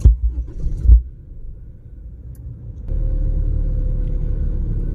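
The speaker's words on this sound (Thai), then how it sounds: "สตาร์ทรถยนต์นะคะ" A Honda Civic fitted with an aftermarket push-start keyless entry kit fires up: a brief low thump, a quiet pause, then the engine catches and settles into a steady, close idle rumble with no talk.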